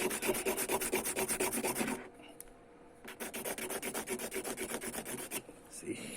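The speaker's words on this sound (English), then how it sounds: "So yes, then sand it." Sandpaper rubbing across the wooden body of a ukulele under repair, close and steady in brisk back-and-forth strokes, pausing briefly near the middle before resuming.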